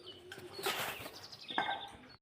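A burst of flapping wings as pigeons take off close by, followed by a second flurry of wingbeats.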